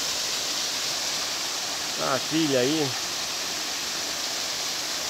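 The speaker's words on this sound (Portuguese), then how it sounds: "Olha que bela cachoeira." The Monjolo waterfall in Juquitiba, São Paulo, falls into a natural pool with a constant, full rushing roar, and a person speaks briefly partway through.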